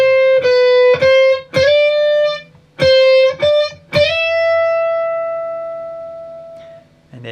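Electric guitar picks out a riff: sharp repeated plucked chords in short bursts, then a final note sliding up and ringing out to fade, played alone and close.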